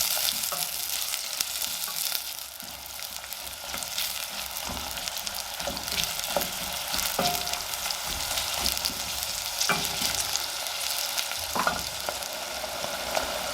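Onions and garlic fry in olive oil in a pan, giving a continuous bright sizzle with occasional soft stirring clicks throughout, with no talk.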